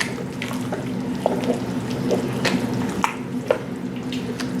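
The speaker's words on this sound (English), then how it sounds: "We'll add just a little bit by little bit." Stock being poured gradually into a pot of seafood gumbo, a steady watery trickle with a few small splashes and drips over a low constant kitchen hum, close by and moderately loud, no talking.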